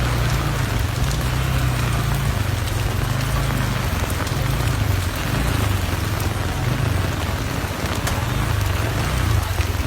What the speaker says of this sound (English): Lots of rain in Nairobi.